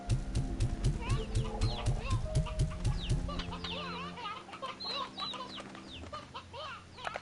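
Sea hens in the game Slime Rancher 2 clucking in quick repeated bursts, several birds close together and fairly loud, with faint talking underneath.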